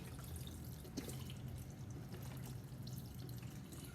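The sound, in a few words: vegetable broth being poured into a pot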